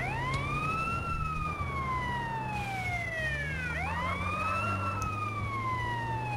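In GTA San Andreas Definitive Edition, a driven ambulance's siren sweeps up and down in long wailing cycles above a low, constant engine hum, steady and prominent with no talking.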